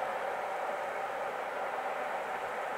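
A locomotive-hauled train passing on the Spessartrampe near Laufach gives a steady, broad rushing rumble that holds at an even, moderate loudness throughout, with no voices.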